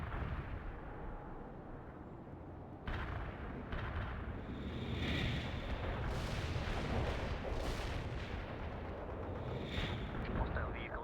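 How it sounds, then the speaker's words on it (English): An artillery barrage in the video game World in Conflict rolls on as continuous heavy rumbling booms and blasts, louder after the first few seconds and sustained to the end, with faint voices mixed in. "Want an artillery barrage? Commencing the barrage."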